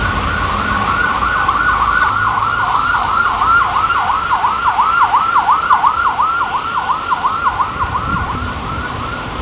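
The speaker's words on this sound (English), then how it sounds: "ambulance" An ambulance siren wails in a fast, regular up-and-down rise and fall, loud and close, over low road traffic noise, then fades slightly as it passes.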